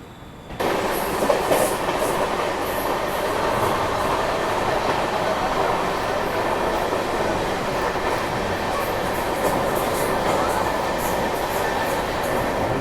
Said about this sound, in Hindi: अपनी गाड़ी यलंका जंक्शन से भी निकल चुकी है।